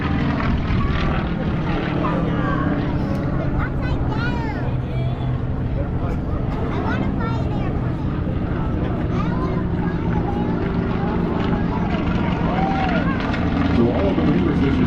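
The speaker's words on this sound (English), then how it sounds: "the Yak passes overhead as they drop" Yak aerobatic airplane passing overhead at an air show, a continuous loud propeller-engine roar that holds steady, with an announcer talking over it.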